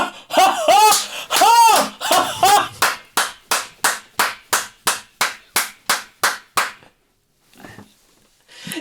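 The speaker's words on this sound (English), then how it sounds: "No way, that many claps?" Hands clap in a quick opening burst, then a slower run of about a dozen loud, evenly spaced claps close by, ending in a short pause and a couple of faint final taps.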